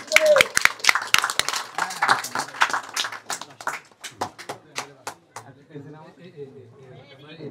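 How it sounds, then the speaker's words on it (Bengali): An audience claps for an award presentation, a burst of overlapping hand claps that thins into scattered claps as a voice speaks over it. "হাততালি হবে সবাই"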